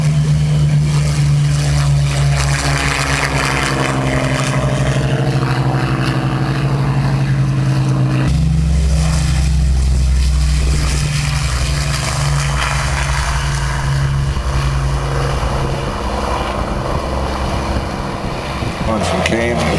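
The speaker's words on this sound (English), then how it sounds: "Now if you keep watching very closely, you'll see the Chinook is reversing just slightly and bowing." A Chinook helicopter at the Biggin Hill Airshow powers up. Its loud, droning rotor and engine roar holds close and steady, shifts pitch partway through, and is joined by a voice over a public address.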